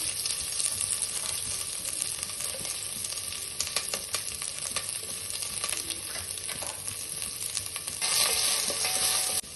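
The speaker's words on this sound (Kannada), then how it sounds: "ಈರುಳ್ಳಿ ಸ್ವಲ್ಪ ಕಂದು ಬಣ್ಣ ಬರೋವರೆಗೂ ಹುರಿಕೊಳ್ಳಿ" Chopped onions frying in about two spoons of oil with curry leaves for a Kundapura chicken curry, a steady dense sizzle close by with occasional stirring scrapes, getting a little louder near the end; no talking.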